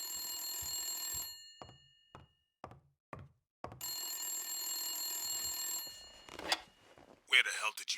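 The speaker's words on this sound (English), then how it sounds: "Should probably answer the phone." A telephone rings in the video game Blacksad: Under The Skin, two long bursts of a bright electronic trill with a pause between them, separated by brief knocking thuds and followed by a short burst of speech.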